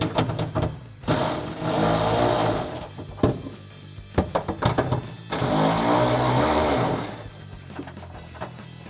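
A power tool spinning loose the 10mm nuts on a 2015-2023 Mustang's factory rear spoiler, two long whirring bursts of about two seconds each, close and loud, separated by metallic clicks and taps.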